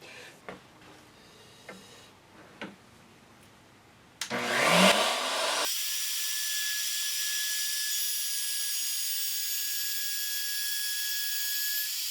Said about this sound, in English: turn it on and plunge it down and go sideways